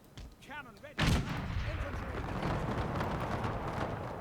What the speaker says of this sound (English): Medium cannon. Cannon ready.